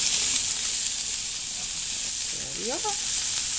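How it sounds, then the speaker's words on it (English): Sweet potatoes and bell pepper frying in a pan, a steady soft sizzle and hiss heard close and moderately quiet throughout, with a brief spoken remark near the end. "after the bell pepper is added, we're supposed to let all this cook for another 2 to 3 minutes"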